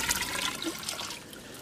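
A bucket of hot water is poured into a homemade solar water heater, a steady splashing gush that gradually eases as the pour tapers off.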